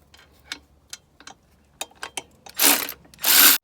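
Bolts come out of a Mini Cooper S R53 valve cover, with a scattering of sharp ticks and clicks from the tool followed by two loud bursts of a power tool spinning near the engine.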